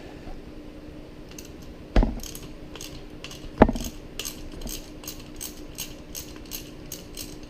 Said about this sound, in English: You're just loosening a screw bolt as you were.